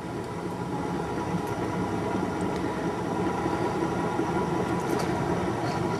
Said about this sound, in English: Just turning the throttle up a little bit.